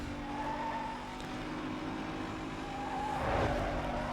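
Racing cars in Need for Speed: Most Wanted (2005, PS2), including a Lotus Elise, a Chevy Corvette and a Fiat Punto, drone with steady engine noise that swells near the end into a brief tire squeal.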